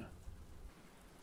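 Steady rain falling in the survival video game Stranded Deep, a soft continuous hiss of drops with a faint low rumble, quiet and even throughout with no talking.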